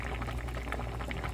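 Pork belly kimchi stew with aged kimchi, garlic, rice-washing water, green onion and chili simmering in a pot, a dense, even bubbling hiss heard close but fairly soft, with no voices.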